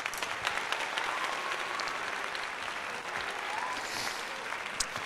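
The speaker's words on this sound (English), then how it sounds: "Let's give ourselves a round of applause" A dense round of clapping from a group carries on without a break, with a few sharper claps standing out above the steady wash of sound.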